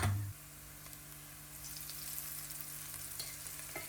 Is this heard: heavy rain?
no